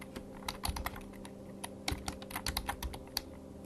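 Typing a terminal command on a computer keyboard produces close, crisp key clicks in uneven bursts, with short pauses between groups of keystrokes over a quiet room hum.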